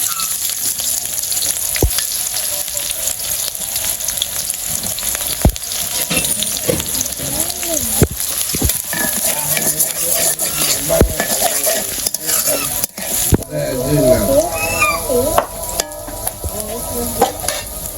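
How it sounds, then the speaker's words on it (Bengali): Onion and bay leaf fry in hot oil in a village kitchen, a loud continuous sizzle with repeated scraping and stirring strokes of a utensil throughout. "তেল গরম হয়েছে তেজপাতা দিয়ে দিলাম পেঁয়াজ দিয়ে দিই"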